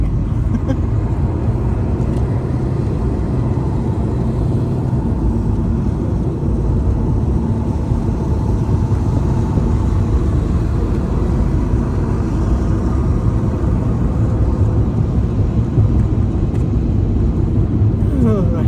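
Steady low road rumble of a car driving along a busy road, heard from inside the vehicle as a continuous engine and tyre drone with passing traffic, no talking.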